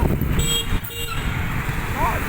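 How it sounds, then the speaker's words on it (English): Car horns tooting amid dense Indian street traffic, short tonal honks over a constant rumble of engines and road noise, with people talking nearby. "Honk."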